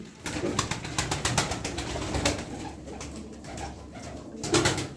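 Tumbler pigeons, some with front crests, coo softly in repeated throaty rolls, several birds overlapping close by, with light rustling and fluttering between calls.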